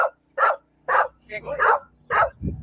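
A dog barks in short, sharp bursts outdoors, about six yips and barks with brief gaps, ending in a lower whimper, close and fairly loud.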